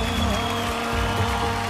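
Studio audience applause for a dancer on a televised dance competition, a steady dense wash of clapping with music underneath, continuous and fairly loud.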